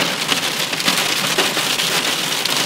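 Hail pelts loudly during a storm on the Naples ring road, a thick, unbroken rattle of stones striking nearby surfaces, steady throughout with no voices.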